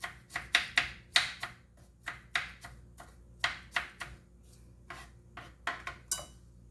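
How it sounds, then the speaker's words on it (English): A knife dices a pear on a cutting board while a kid-friendly vegan breakfast is made, giving a string of crisp close chops in uneven bursts with short pauses between. "I'm gonna dice a pear."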